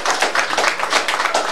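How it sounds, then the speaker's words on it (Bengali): A crowd claps steadily for a film crew member at a Bengali thriller event, dense and fairly loud with no voices over it. "ওর জন্য একটা জোরে হাততালি হয়ে যায়"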